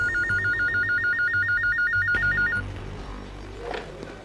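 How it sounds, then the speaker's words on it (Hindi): A telephone rings in steady rapid electronic bursts for about two and a half seconds, fairly loud and alone, then cuts off, leaving quiet room noise with a faint rustle. "इंदिरा ने घर बैठे बैठे एक फोन से पीएम पद के 5 दावेदारों को चित्त कर दिया।"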